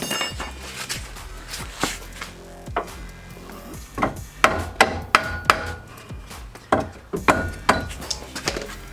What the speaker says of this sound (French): essayer de mettre un petit coup de marteau